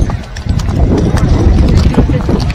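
A horse walks a mountain trail near Thajiwas Glacier in Sonmarg, its hooves clopping in a loose, continuous rhythm close by, with people's voices mixed in.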